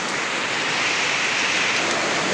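Steady rain falls over a vegetable garden in a flood-prone area, making a continuous, even hiss of drops with no voices.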